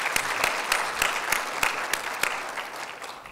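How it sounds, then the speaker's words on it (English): Steady audience applause at a luncheon presentation, a dense wash of many hands clapping with a few sharper claps standing out, continuous and fairly close for the whole stretch. "how about a nice round of applause for those folks?"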